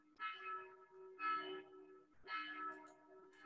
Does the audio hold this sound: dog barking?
no